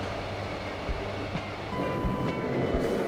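Spanish commuter electric train running along the Costa Brava, a steady rumbling rail drone with faint rhythmic wheel clacks and a thin high whine, heard from inside at constant moderate loudness.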